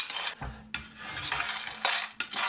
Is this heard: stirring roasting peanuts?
yes